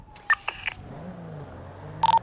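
Phone keypad tones in GTA roleplay, several short electronic beeps in quick bursts with a pause between them, over a quiet low hum.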